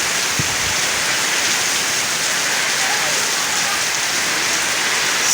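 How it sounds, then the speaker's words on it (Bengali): Heavy evening rain pours down steadily over a village courtyard spread with drying paddy, a dense, even roar of drops that stays loud throughout. "সারাদিন ধান শুকানো হলো তো দেখুন সন্ধ্যার সময় কি বৃষ্টি প্রচুর বৃষ্টি"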